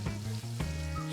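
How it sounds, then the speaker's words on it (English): Bologna and cheese fry in a cast iron pan with a loud, steady, close sizzle that holds through the whole short moment, broken only by faint scraping clicks. "See that bologna and cheese goes to frying up."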